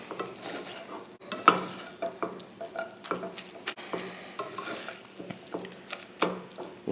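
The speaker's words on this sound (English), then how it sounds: "Mix the cheese in." Cheese is stirred into scrambled eggs and bacon in a pan on low heat, giving soft, quick scrapes and light utensil taps over a faint, continuous sizzle, with no one talking.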